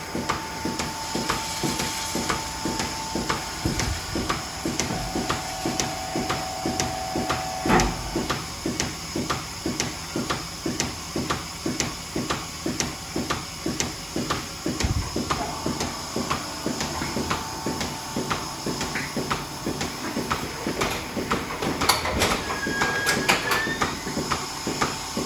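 A milking machine works on a cow in a dairy parlor with a fast, regular mechanical pulsing that repeats evenly throughout, close and steady over a constant hum.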